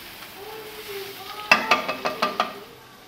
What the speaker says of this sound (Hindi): अब इसको हम अच्छी तरह से फ्राई करेंगे।